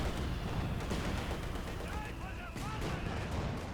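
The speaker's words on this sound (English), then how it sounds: "Great hits from the mortar pit" Mortar pit shells firing and impacting in Company of Heroes 2, dense booms and blasts amid continuous battlefield gunfire, with a commentator talking over the din.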